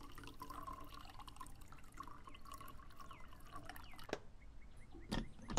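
Water poured for coffee in a horror video game: a thin continuous trickle and drips into a vessel, faint and steady, followed by a few soft clinks.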